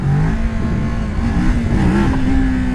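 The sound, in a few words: Kawasaki Ninja 650 motorcycle engine revving on throttle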